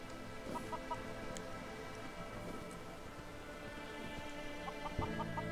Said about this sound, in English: whenever chickens spawn, generally around settlements, they'll spawn nests as well